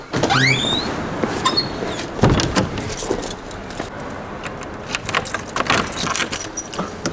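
A bunch of keys jangles up close and keeps rattling while a shop in the town centre is locked up for the night, with passing cars and street noise behind it.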